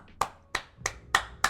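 Five sharp, evenly spaced hand claps, like a wake-up signal in a high school boarding house, ring out alone and close with short gaps between them.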